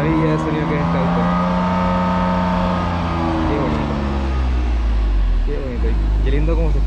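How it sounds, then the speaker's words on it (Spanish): A BMW M2 CS engine hums with turbochargers spooling, producing a loud steady drone with a rising whistle and a deep bass rumble that swells near the end, with no talk over it. "se escucha como cargan los turbos, que suena muy, muy lindo"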